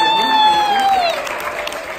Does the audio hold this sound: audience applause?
yes